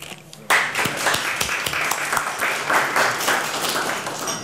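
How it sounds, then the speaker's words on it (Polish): Applause breaks out at a county council session after the budget vote, a sudden dense burst of many hands clapping close and loud, sustained and even with faint voices mixed in. "Wielkie, wielkie brawa"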